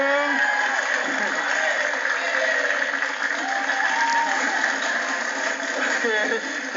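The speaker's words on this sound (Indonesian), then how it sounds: "Tepuk tangan dong." Steady applause from a group fills the whole stretch, a dense continuous patter with a voice or two faintly mixed in.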